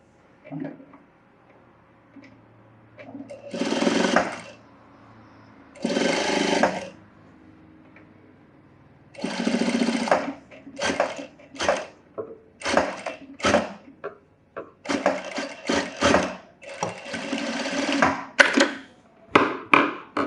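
A sewing machine stitching a blouse made from a saree, in several close bursts of whirring separated by pauses and handling clicks, with shorter rapid runs toward the end.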